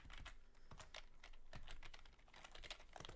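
Keys clatter on a computer keyboard in a quiet room, a quick, uneven run of light taps and clicks that fades slightly and then picks back up.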